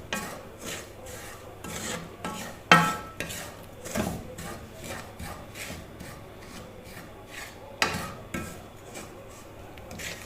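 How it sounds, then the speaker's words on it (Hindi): A spoon scrapes and stirs quickly through a thick semolina barfi mixture in a pan, with rhythmic rasping strokes and occasional sharper knocks against the metal, fairly close and moderately quiet. "अब इसको जल्दी जल्दी चम्मच हिलाना है कि नीचे ना लगे"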